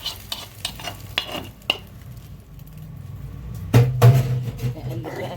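Hot tasha of fried garlic and ghee poured onto a pot of green okra stew, giving a sudden loud sizzle and hiss after a stretch of quieter stirring and clinking in a home kitchen.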